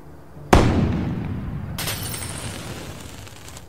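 A firecracker going off in the Next Space Rebels game: one sharp bang followed by a crackling burst and a long noisy tail, with a second crackle of debris and a small pop at the end.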